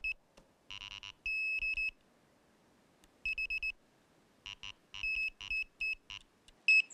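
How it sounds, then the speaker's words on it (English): Carp fishing bite alarms set to maximum sensitivity at a fishery, giving bursts of sharp electronic beeps in quick irregular runs separated by short silences, loud and close. "the sensitivity on the alarms is cranked up to the max"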